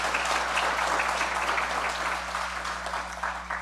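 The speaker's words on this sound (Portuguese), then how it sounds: "Uma salva de palmas ao requerimento feito pelo vereador Jorge" A dense, steady wash of applause fills a solemn council session honouring a Ceará civic association, sustained and evenly loud throughout and only slightly easing at the end, with a low electrical hum beneath.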